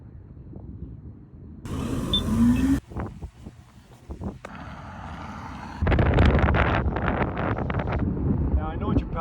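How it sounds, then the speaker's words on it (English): Strong wind gusts across an exposed mountain spot high above a 2,500-foot drop, buffeting the microphone in loud, uneven rushes that rise and fall across the clip. "this guy probably couldn't have picked a windier spot to set up"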